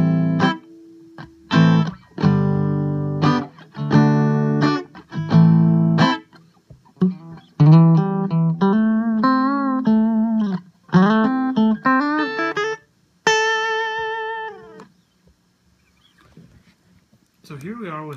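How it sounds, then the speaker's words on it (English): A clean, dry electric guitar played with the TC Electronic Alter Ego delay pedal switched off. Chords are strummed, then single notes are picked, each cutting off with no trailing repeats, close and loud with no talk. "here's the guitar without any echo."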